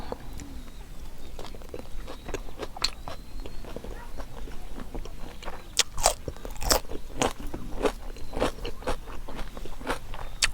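Close, wet crunching and biting of spicy red ant egg salad with shrimp and salt, irregular chewing bursts and crackles over several seconds, with faint bird sounds in the background.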